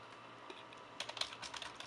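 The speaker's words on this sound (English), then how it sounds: "I'm typing on my Ubuntu." Bursts of keystrokes on a computer keyboard attached to an Ubuntu machine, quiet at first and then a quick, uneven run of close, crisp clicks in a still room.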